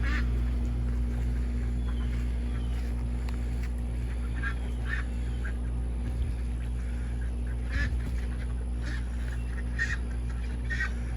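Ducks quack in scattered bursts over a steady low hum, several birds calling at once from nearby, with no talking.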